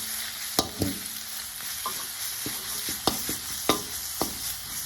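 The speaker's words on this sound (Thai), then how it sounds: "เอาพริกลงไป คั่ว คั่วเพื่อให้มันหอม" Chili peppers roast in a pan with a little oil for a frog salad, a continuous close hiss broken by repeated sharp scrapes and taps of a stirring utensil against the pan.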